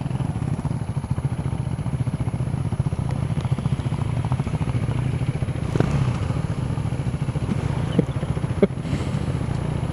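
A Husqvarna Vitpilen/Svartpilen 401 motorcycle idles with a steady, close, throbbing single-cylinder putter, broken by a few clunky gear-shift thuds while finding neutral.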